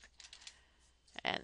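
A short, quiet burst of typing on a computer keyboard, a handful of light keystrokes ending in a slightly louder cluster.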